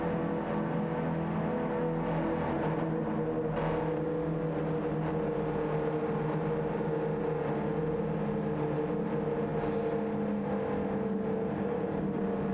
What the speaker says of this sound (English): The sound of the muffler is a good sound. It is loud. It is very loud.